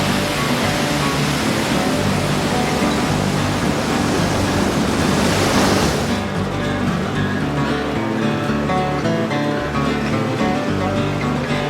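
Ocean waves surge at Makapu'u Bay on Oahu, Hawaii, a loud continuous roar of surf that swells and then eases into a steadier, softer wash.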